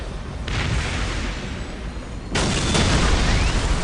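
Ork artillery explosions in Warhammer 40,000: Dawn of War, a sustained roaring, booming rumble that swells sharply partway through and stays loud, with no talking.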